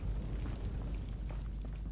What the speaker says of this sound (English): Oh, there's an explosion going on.